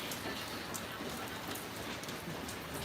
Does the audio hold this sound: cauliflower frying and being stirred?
no